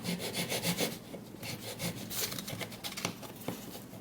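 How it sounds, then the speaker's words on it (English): A hacksaw cuts at an angle through a piece of wood for a scarf joint splice repair, with close, rhythmic rasping back-and-forth strokes. "I'm going to cut this thing at an angle. And this is called a scarf joint. So I take my hacksaw."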